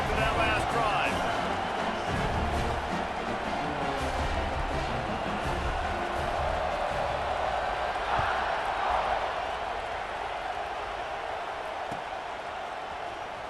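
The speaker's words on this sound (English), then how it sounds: "this crowd is feeling themselves after that last drive" A steady stadium crowd roar at a college football game in EA Sports College Football 26, a loud, continuous wash of noise that stays level throughout under a commentator's voice.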